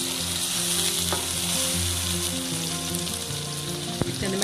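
Garlic paste sizzles and fries in a hot pan while being stirred, a loud continuous crackling hiss with scraping stir strokes and a sharp clink near the end.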